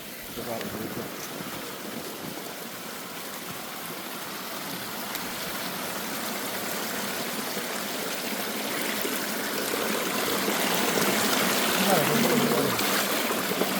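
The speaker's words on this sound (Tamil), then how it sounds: "தண்ணீர் ஊற்று ஒன்று இருக்குது." Water from a spring in the Vanni forest trickles and flows steadily nearby, a continuous watery hiss that grows slightly louder toward the end.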